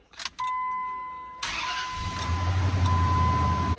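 A RAM 1500 truck with a 4.7 engine and a crankshaft sensor fault cranks without starting. A chime sounds first, then the starter grinds in a long, steady, rhythmic churn that never catches.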